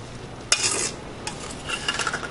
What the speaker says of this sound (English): the next step is our garlic, onions, and peppers that we pre-cooked. We're going to go ahead and mix them in here with this.